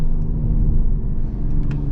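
Mercedes-AMG GT53 4-door engine in a low, steady rumble heard from inside the cabin while downshifting, with brief faint mechanical ticks near the end.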